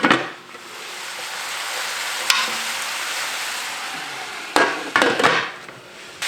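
Green pepper and onion dropped into a hot pan for chicken fajitas, a strong continuous sizzle with a few sharp knocks and clatters of utensils against the pan, close and loud.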